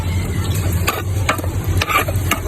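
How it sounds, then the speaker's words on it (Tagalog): Onion, garlic and chili frying in a pan as a base for cooking crab, with a steady hot sizzle and occasional scrapes and stirring clatter close by, no talking. "ipapa-brown lang yung sibuyas para medyo okay na"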